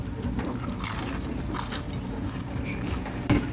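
A crunchy fried crab rangoon from a Denver lunch special is bitten into up close, with a muffled crunch and crackle followed by soft squishy chewing, no talking.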